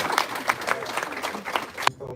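Short burst of audience applause at a talk on kizomba and the African diaspora, uneven clapping of moderate loudness that cuts off abruptly near the end.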